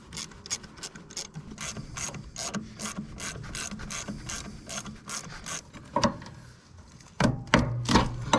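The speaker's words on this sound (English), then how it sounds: "See, we'll unbolt that." A ratchet wrench clicks steadily while unbolting the starter on a rusty D4 dozer, the rapid pawl clicks coming in close, even strokes, then a louder, busier burst of ratcheting near the end.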